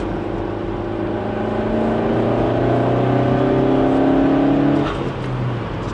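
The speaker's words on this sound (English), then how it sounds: "I don't know if you can hear that intake." Car engine fitted with a short ram intake, revving steadily and loudly with a rising whir and intake roar, then easing off with a brief hiss near the end; no talking.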